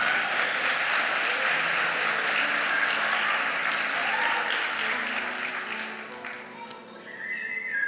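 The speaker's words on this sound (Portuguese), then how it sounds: "Aleluia, você pode aplaudir a Jesus por isso?" Church congregation applauding at a worship service, a dense, sustained wash of clapping from a large crowd that holds steady, then thins toward the end with a few whistles on top.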